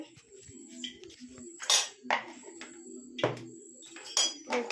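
Salt is mixed into food in a bowl with a utensil, making close clinks and scrapes against the dish. The sounds come in uneven bursts, a few of them sharp and louder, and no one speaks.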